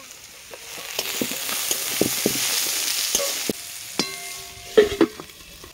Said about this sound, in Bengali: ওই তেলে গাজর ভেজে নেব, একসঙ্গে সবজিগুলো সব ভেজে নেব।